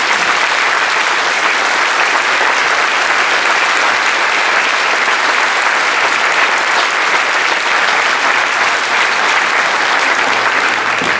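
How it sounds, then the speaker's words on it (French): A theatre audience claps together in loud, dense, continuous applause that holds steady for the whole stretch without letting up. "Un applaudissement collectif."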